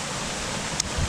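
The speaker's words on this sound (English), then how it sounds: "I do love a waterfall." A waterfall on a hillside hiking loop at Llyn y Fan produces a steady broadband rushing hiss, continuous and moderately loud, with one brief click partway through.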